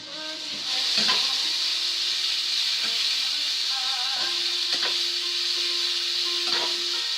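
Vegetables and onions stirred in a hot frying pan, a steady sizzle with occasional scraping and knocking of the spoon against the pan.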